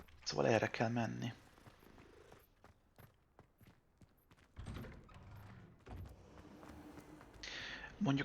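A cat purrs in the Hogwarts Legacy video game, a soft, low rumbling between louder bursts at the start and end, with a voice talking over part of it.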